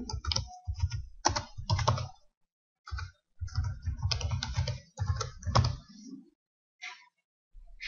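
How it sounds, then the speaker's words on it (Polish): Rapid bursts of keystrokes on a computer keyboard, typing text in clustered runs separated by short pauses, close and clear. "Teraz wpisujemy tutaj tekst"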